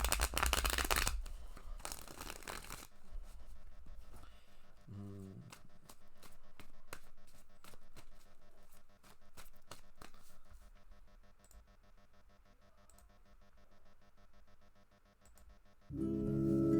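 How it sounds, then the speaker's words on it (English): Tarot cards being shuffled, with a few loud riffling bursts at the start and the end, separated by a long quiet stretch holding faint soft card noises. "All right, Candace, shuffling up your cards now here."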